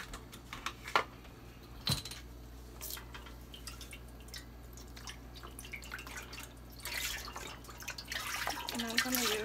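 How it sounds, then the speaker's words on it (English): Organic vegetable broth is poured into a pot of collard greens, making soft, uneven splashing and dripping that comes and goes, with a fuller run of liquid near the end. "so we're going to add our vegetable broth in first"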